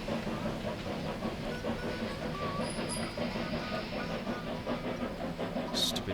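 A train in the Railroad Tycoon 3 game rumbles along with a steady, low rolling clatter under faint background sounds, quiet and continuous throughout.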